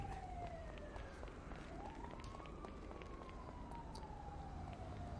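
A wailing siren rises and falls over a steady low hum, fairly faint as if at a distance, with no talking.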